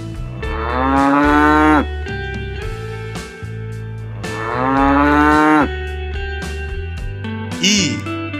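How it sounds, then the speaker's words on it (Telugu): A cow lets out two long, loud, drawn-out moos close by, separated by a short pause, with a brief higher cry at the end. "ఆవు."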